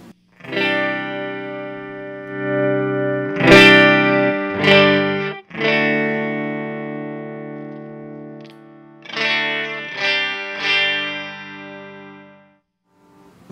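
Clean electric guitar from an Aganin T-Line Telecaster played through a Solo Amps Mini 8 amplifier, a series of strummed chords ringing out and decaying in clusters, close and fairly loud, with no voices.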